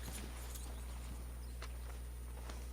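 Faint horse hooves clip-clop in Red Dead Redemption 2 as a horse sets off from the stables: a handful of soft, spaced hoof knocks over a steady low hum.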